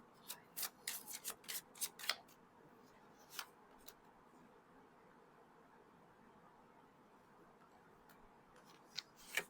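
Angel oracle cards are shuffled close by in a quick burst of crisp flicks and riffles. A quiet pause follows, then a few more scattered flicks near the end. There is no speech.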